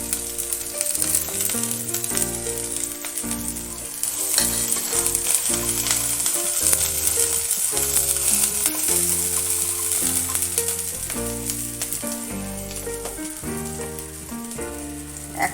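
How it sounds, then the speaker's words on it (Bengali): Garlic, ginger and green chilli fry in hot oil in a pan, a steady close sizzle under background music with a rhythmic melody running throughout. "রসুনটা একটু ভেজে নেব। আদা কাঁচা লঙ্কাটা দিয়ে দেবো এবার।"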